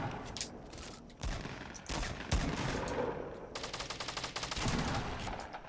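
Rapid gunfire in a Fortnite Battle Royale match near the factories, bursts of shots crackling in quick succession with short gaps, close and loud throughout.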